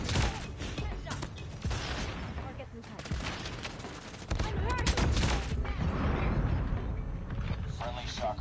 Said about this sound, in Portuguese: Caraca, tô tomando tiro das costas